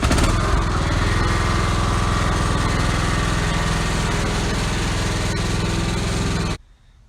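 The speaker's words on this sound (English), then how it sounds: "The riding mower's in need of some carburetor work, so I'm going to see if I can't fix that today." A Craftsman riding mower whose carburetor needs work runs loud and steady close by, its engine droning with a rough mechanical rattle before cutting off abruptly near the end.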